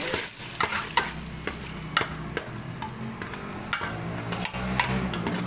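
Hot oil with garlic and green chillies sizzles and crackles steadily as the tempering goes into lentils, while a spoon repeatedly stirs and clinks against the pot in an uneven rhythm.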